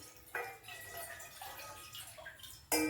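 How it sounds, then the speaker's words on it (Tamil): Water is poured from a large tumbler into a vessel while making dry ginger coriander coffee powder drink, with a trickling, splashing stream, a soft drip-like patter and a sharper splash near the end, close by. "தண்ணியை ஊற்றி வச்சுருவோம்"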